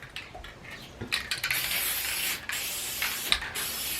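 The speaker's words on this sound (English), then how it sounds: "Just add a little bit of spray." Basting spray hisses from an aerosol can onto quilt batting in several close bursts, some short and one longer, separated by brief pauses, with no talking.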